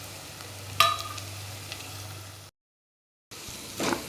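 Chopped green chillies tossed into softened onions in a pan for Hyderabadi chicken biryani, giving a steady sizzle with a brief clatter as they drop in, cut off by a short silent gap before the frying resumes.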